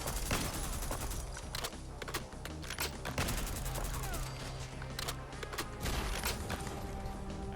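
Suppressed Krig-C rifle in Fallout 4 firing rapid, dense bursts of sharp clicking shots, with battle noise and explosions mixed in, close and continuous.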